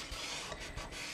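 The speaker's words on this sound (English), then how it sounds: "just burnish that down" Graphic 45 paper being burnished down by hand in a mini accordion craft album: a brief, close, soft rubbing and scraping of a few quick strokes, with no voices.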